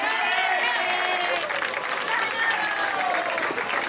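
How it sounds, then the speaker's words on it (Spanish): An audience applauds at the end of a performance, a dense steady wash of clapping with voices shouting and cheering over it throughout. "¡Se ha acabado! ¡Un aplauso!"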